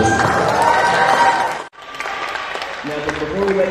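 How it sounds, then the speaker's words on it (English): An audience at a high school award ceremony applauds the award recipients, a dense patter of clapping that breaks off briefly before resuming, with a voice speaking over the end. "let's give a big round of applause for these award recipients"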